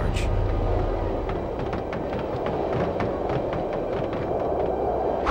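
Monorail train in the Batman Begins video game, a steady rumbling rail roar with faint clicking, continuous and fairly loud throughout, with game music or effects layered in.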